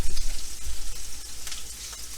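A tomahawk beef ribeye sears in a pan over high heat, its fat edge browning, giving off a loud, steady crackling sizzle with rhythmic pulses of spattering and no voices.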